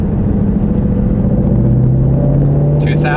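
A manual-transmission car's engine rises steadily in pitch as it accelerates after a gear change, a continuous close rumble that builds, with people speaking over it.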